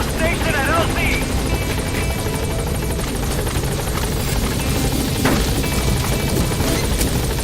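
B-Quad, a support helicopter from Metal Gear Solid V, arrives at a landing zone with a loud, steady rotor drone and engine whine held throughout, while radio voices talk over it.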